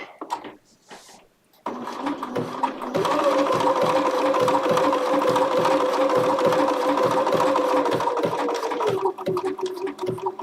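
A Bernina sewing machine runs steadily for several seconds with a close, even mechanical whir and rapid needle rhythm, starting after a brief quiet moment and tapering off near the end.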